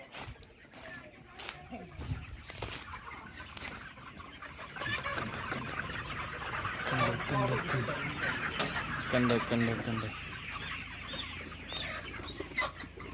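Many hens cluck and squawk together at a large poultry farm in Maharashtra, a dense, continuous flock chatter that swells in the second half, with a person talking over it.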